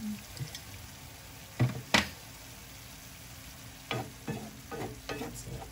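Ground chicken and string beans are stir-fried with a splash of soy sauce, a quiet steady sizzle broken by scattered scraping and knocking strokes of a utensil stirring in the pan.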